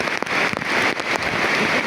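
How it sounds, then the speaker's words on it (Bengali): Heavy mountain rain pours down at a gorge, a dense, loud hiss of drops striking surfaces with a few sharper splats, close and continuous for a brief moment. "আরে ও কি বৃষ্টি রে, পাহাড়ি বৃষ্টি।"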